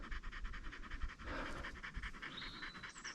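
A dog pants rapidly and rhythmically close by, quick breaths in and out with a brief pause partway through.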